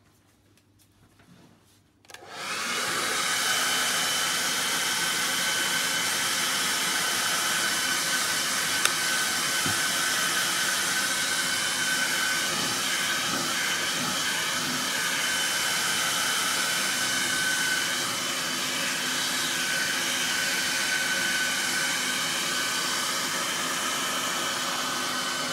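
A hair dryer blows steadily and close up as it dries a pour of acrylic and ethanol paint cells, a continuous broadband whoosh that starts after a brief quiet moment and holds without a break.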